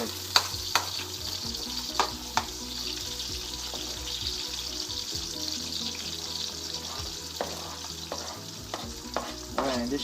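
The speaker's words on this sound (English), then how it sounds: "after a couple minutes of sauteing the onion and garlic" Onion and garlic sauteing in a pan, a continuous bright sizzle with repeated clicks and scrapes of stirring, close and loud with no talking.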